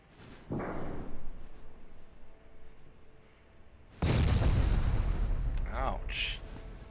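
Heavy warship guns firing in the naval battle game Ultimate Admiral Dreadnoughts: two deep, loud booms about three seconds apart, each followed by a long rumbling roll, with a voice faintly present underneath.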